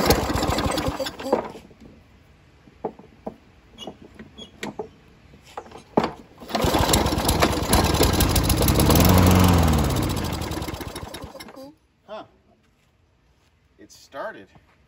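A Lawn-Boy 10684 lawn mower with a disabled safety and missing engine bolts, oil drain plug and spark plug part is pulled a few times with short bursts, then its engine catches and runs loudly for several seconds before cutting off, with someone talking nearby.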